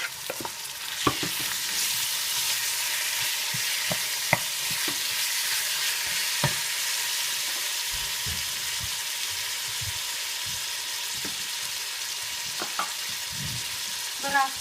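Meat frying in a pan, a steady close hiss of sizzling fat broken by scattered sharp ticks and pops, carrying on alone without any talk.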